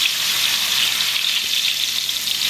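Loud, steady sizzling and crackling as seasoned food for homemade fries or burgers hits hot grease in a home kitchen, a continuous bright hiss with no talking.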